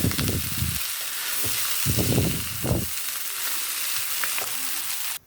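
Cooked rice and wilted vegetables fry for nasi goreng, a loud close sizzle with repeated bursts as the mix is stirred and tossed in the pan, then a sharp stop at the end.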